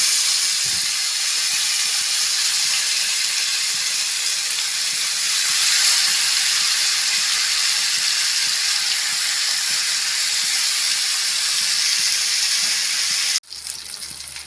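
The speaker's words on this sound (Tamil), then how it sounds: "கடைசியாக எல்லாத்தையும் இதே மாதிரி பொ பொறிச்சு எடுத்துக்கலாம்" Pomfret fish frying in hot oil, a loud, dense, continuous hiss close up that holds steady for about thirteen seconds before cutting off abruptly.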